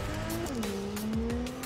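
A sports car in the video game Cyberpunk 2077 drives with a loud revving engine whose pitch drops between gear shifts, while tires squeal and skid briefly near the end; no one speaks.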